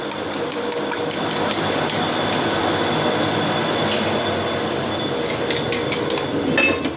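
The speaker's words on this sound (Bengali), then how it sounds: "ডিমটা এবার ফেটাচ্ছি আমি" Eggs beaten with a little oil in a bowl give a fast, steady, mechanical-sounding whir of rapid taps that runs without pause and grows slightly busier near the end.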